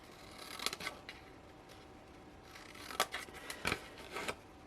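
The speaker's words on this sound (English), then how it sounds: "So I've cut straight on the rectangle and I've wedged the square, and just do that all the way around" Scissors snip through card for a fold-over chocolate Easter egg box, with a few quiet, close snips spread irregularly over a soft background.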